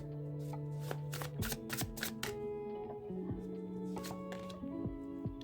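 Tarot cards being shuffled by hand, a steady run of crisp riffling flutters and soft slaps with short pauses between bursts, close and fairly quiet, set against a faint musical background.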